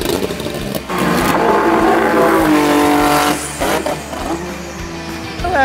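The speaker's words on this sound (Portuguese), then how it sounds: "A saudade dessa época já começa pelo ronco desses motores." Turbo-era Formula 1 engines, a 1984 Toleman and a 1985 Lotus, running on city streets in São Paulo: a loud, close rising roar with shifting harmonic pitch, gear changes, and revving bursts, no talk.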